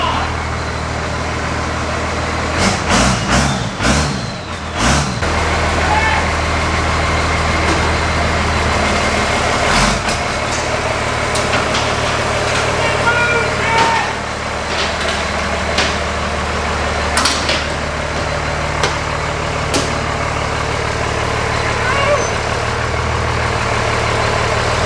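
A 2010 Ford F350 swapped to a 12 valve Cummins diesel cranks with several sharp bursts, then settles into a low, steady rumbling idle nearby, with occasional clunks and voices speaking over it.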